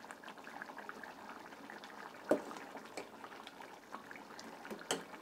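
Mung dal simmering in a pot on a stove, giving a steady low bubbling with a few louder pops, faint and close, with no talking.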